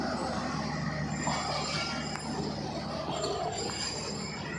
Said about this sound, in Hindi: ये लीजिए हमारी गाड़ी निकल खड़ी हुई है जी वज़ीराबाद रेलवे जंक्शन से